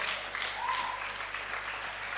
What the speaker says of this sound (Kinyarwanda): dukongere dukomere Imana amashyi.